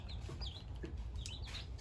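A mother hen on a small rural farm plot clucks softly in a few short, low calls, with chirps from other birds and a steady outdoor hiss in the background.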